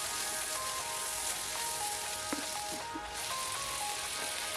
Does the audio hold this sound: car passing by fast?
no